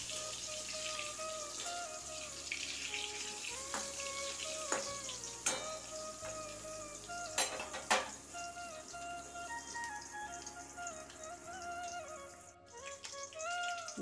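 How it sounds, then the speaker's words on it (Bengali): Eggplant slices frying in hot oil and being flipped, a steady close sizzle with scattered clicks and scrapes of turning throughout, no speech. "বেগুন ভাজাগুলো ওলটপালট করে দিলাম।"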